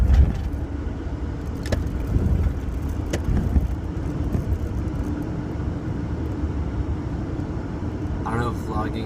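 A car accelerates to beat a green light, its engine rumbling low and steady from inside the cabin, with road noise and a few brief sharp knocks; a voice speaks briefly near the end.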